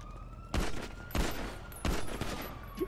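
Three evenly spaced, sharp pistol shots ring out in the video game GTA 5 during a street fight with police, each one a loud crack with a short ringing tail.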